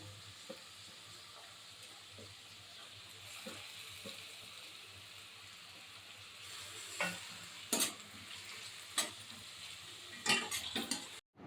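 Onions and tomatoes sauté quietly in a pan for prawn gravy, giving a faint continuous sizzle, with soft stirring scrapes that grow louder and more clattery toward the end.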